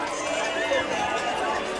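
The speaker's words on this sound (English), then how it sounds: "We hear screams of delight" Football crowd at an Under-19 match between Desruisseaux and Ti Rocher FC, roaring and screaming with delight in a dense, steady wash of many voices, with chatter mixed through the cheering.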